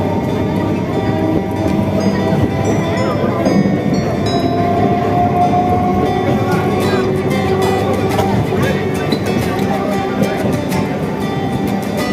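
Interior of a crowded moving local train bound for Shantipur: a constant, loud rolling rumble and rattle runs throughout, with faint clicks and murmurs from the packed carriage.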